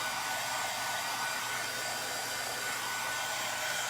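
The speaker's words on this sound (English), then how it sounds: "Heat gun." A heat gun blows continuously while drying a DIY chunky pedestal kit, a loud, steady, close-up whooshing roar of hot air with no pauses and no voices.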